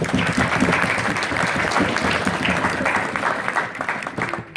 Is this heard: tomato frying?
no